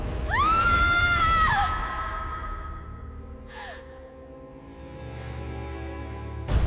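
A woman screams in terror at a ghost in a darkened hostel room at night: one loud, sustained high shriek lasting over a second, then a fainter, shorter falling cry over a low droning background.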